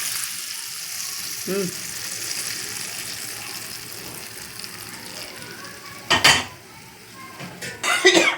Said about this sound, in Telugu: అల్లం పచ్చడి తాలింపు ఇప్పుడు పచ్చట్లో వేసేసుకున్నాం